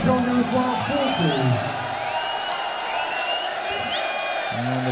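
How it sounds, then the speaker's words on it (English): A darts crowd at the PDC Austrian Darts Open cheers and whoops in a steady, dense roar throughout, with individual shouts and whistles rising above the mass of voices. "the crowd are going to try and cheer that dart into double top"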